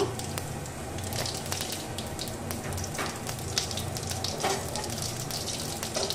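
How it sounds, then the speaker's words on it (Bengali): Cumin seeds dropped into hot oil left from frying jackfruit koftas, crackling and popping in fast irregular bursts over a soft steady sizzle, close and moderately loud, with no voices. "এবার যে তেলে কোপ্তাগুলো ভেজেছিলাম সেই তেলের মধ্যে এবার আমি দিয়ে দিচ্ছি সামান্য জিরা ফোড়নের জন্য"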